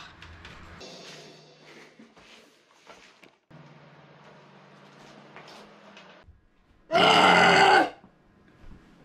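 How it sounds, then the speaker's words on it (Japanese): A younger sister lets out a single loud, rough burp after playing bass, sudden and close, standing out after a stretch of quiet room sounds. "ゲップでございました。"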